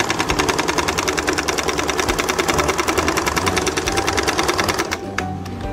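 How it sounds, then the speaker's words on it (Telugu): A sewing machine stitches elastic into the waistband of palazzo pants, with a loud, fast, steady needle chatter and motor hum that continues for about five seconds before slowing and fading. "ఎలాస్టిక్ మీద కుట్టు రాకుండా చూసుకుంటూ అది బంద్ చేసుకోండి"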